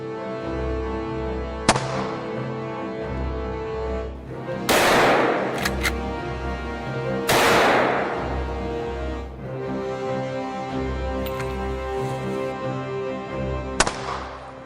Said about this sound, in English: His gunfire echoed from the mountainside, each shot sharp and precise, stopping the lead beast in its tracks.